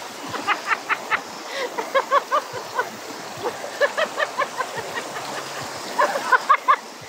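Strong water surging and splashing near a mountain, a busy churning stream with repeated bright splashes in quick bursts, close and fairly loud.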